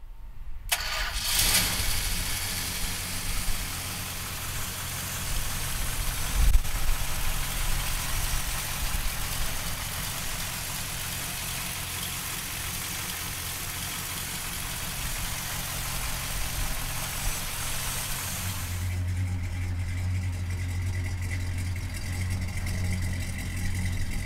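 A 1968 Dodge Charger with a 440 V8 cranks and fires up, then settles into a loud, steady idle close by. The idle shifts to a deeper, heavier rumble near the end.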